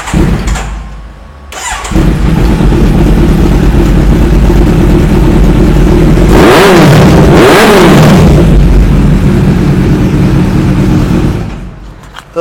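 A 2019 BS4 motorcycle starts up and idles loudly close by, with two sharp revs rising and falling midway before settling back to a steady throbbing idle, no talk over it.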